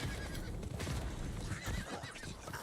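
A horse mount in the video game Diablo IV gives a clear whinny among rhythmic clip-clopping hooves, set against a busy game soundscape at moderate level.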